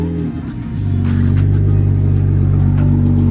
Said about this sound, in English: And that's just the muffler delete.